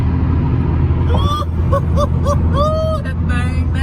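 A Ford Mustang muscle car at a car meet rumbles loudly and steadily up close, its deep exhaust filling the scene while people talk excitedly over it.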